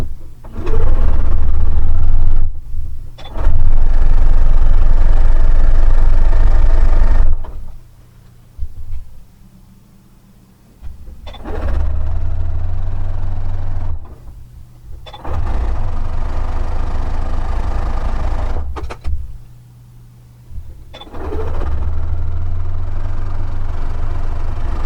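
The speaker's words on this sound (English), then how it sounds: "sew them together with a 1/4 inch seam" Sewing machine joining red and white fabric rectangles with a quarter-inch seam for a scrappy quilt, loud close runs of humming stitching in four long bursts separated by brief quiet pauses, no talk.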